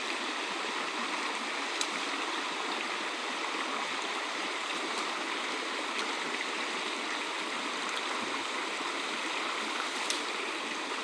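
A river stream flows steadily through a forest, its continuous rushing water wash filling the whole stretch at an even, close level with no voices.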